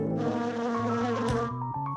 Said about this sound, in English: Here, little bee.